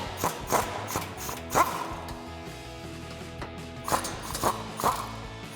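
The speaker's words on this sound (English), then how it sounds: "now we can take a 15 millimeter socket to remove our two nuts" A ratchet with a 15 mm socket works exhaust nuts loose on a 2021-2024 Bronco, close clicking strokes in short bursts with brief pauses between them.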